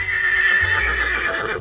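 A person's voice imitates a horse neighing, a loud, close, wavering whinny that holds for about a second and a half before fading.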